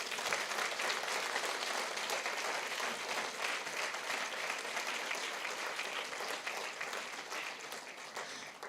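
Congregation applauding during a church service, a dense sustained clatter of many hands clapping throughout, steady and loud with no voices over it.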